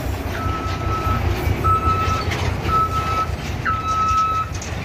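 A heavy FAW JH6 trailer truck backs up outdoors, its reversing alarm giving four evenly spaced, sustained beeps over a constant loud diesel rumble.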